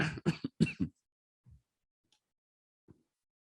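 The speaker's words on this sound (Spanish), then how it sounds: "Problema, ¿qué problema con esta tos?" A short burst of raspy coughing, a few quick coughs close together, followed by faint small sounds and quiet.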